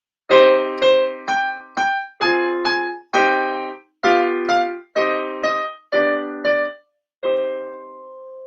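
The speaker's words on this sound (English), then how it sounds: "So if I was to play Twinkle Twinkle Little Star in a minor key," A simple piano melody, Twinkle Twinkle Little Star in a minor key, played as separate single notes in a steady rhythm, with a short pause before a final held note.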